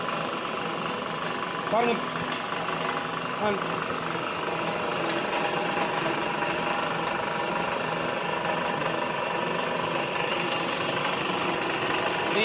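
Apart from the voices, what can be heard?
coconut oil extraction machine running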